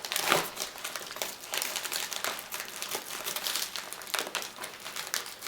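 Scissors cutting open a padded mailing envelope, close and fairly quiet: a run of crinkling, rustling paper and plastic with small snips and tearing bursts, no talking.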